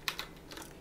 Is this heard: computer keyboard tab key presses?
yes